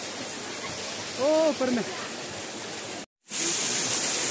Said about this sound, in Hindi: ये एक ये नीचे वाला झरना है।